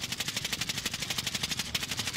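Rapid rhythmic gunfire in the video game Warzone, a steady fast stream of moderately loud shots continuing without pause and with no talking.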